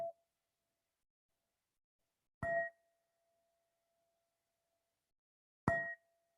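A meditation gong struck twice to close a practice, each a sharp metallic strike followed by a long, steady ringing tone that hangs in near silence before slowly fading; a faint tail of an earlier ring opens the passage.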